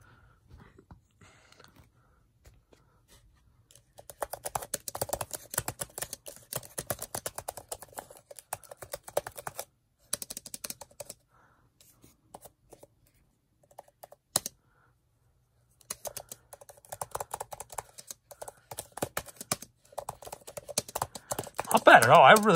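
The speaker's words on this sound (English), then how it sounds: "I'm going to try typing." Rapid clicky typing on a Logitech Combo Touch iPad keyboard case comes in close bursts separated by short silent pauses.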